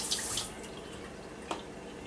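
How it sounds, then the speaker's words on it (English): Warm tap water runs over frozen bags of soup mix in a sink, a steady close hiss with a brief splashing burst early on and a sharp clatter near the end. "I'm just going to run them under warm water real quick"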